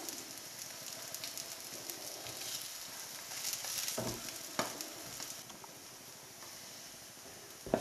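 An egg frying in a hot pan for a Spam and egg sandwich gives a steady close sizzle and crackle, with a few brief pops and scrapes and no talking.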